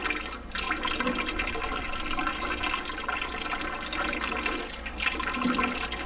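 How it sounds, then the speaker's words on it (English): Water runs steadily through a Chanson Miracle M.A.X. water ionizer, a continuous rushing flow at an even level throughout. "I need to let this run 10 to 15 seconds to flush out the last sample of water I took before testing another sample."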